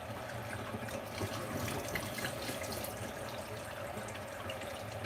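Water from a tap runs continuously as a makeup blush brush is rinsed under it, a steady close hiss and splatter with no talking.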